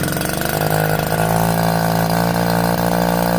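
A cheap leaf blower's small two-stroke engine catches on the first pull and runs steadily, a loud continuous buzzing drone with a rising pitch that holds strong throughout.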